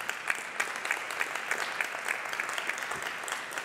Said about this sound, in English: So face-to-face applause, virtual applause for sure as well.